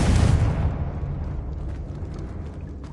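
A Confringo explosive spell goes off in Hogwarts Legacy as one loud close burst, which rolls away into a fading rumble over about two seconds.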